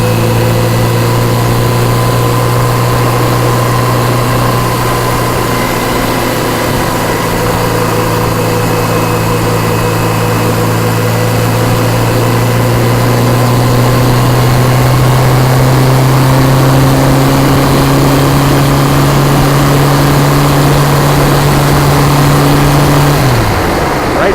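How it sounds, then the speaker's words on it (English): A motorcycle cruising on an Ohio highway holds a loud, steady engine drone that climbs gradually in pitch as the throttle is rolled on, then drops off right at the end. "The people behind me really hate it when I roll the throttle on"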